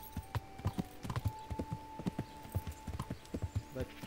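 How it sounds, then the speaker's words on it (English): Horse hooves clip-clopping in a steady, repeated rhythm across the whole stretch, from the medieval video game Kingdom Come Deliverance, fairly close and alone with no talk over it. "But come on, Horsey, you could probably jump higher than that"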